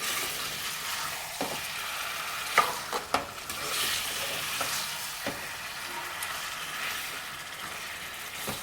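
Chicken curry sizzling in a pan, with a spoon scraping and stirring it in irregular strokes and a few sharper knocks against the metal over a steady close frying hiss.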